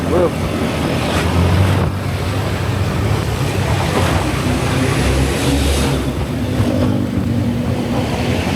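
Strong wind buffets the microphone steadily and loudly on a road trip through eucalyptus plantations between Indramayu and Subang, with a broad rushing roar and vehicle rumble underneath throughout.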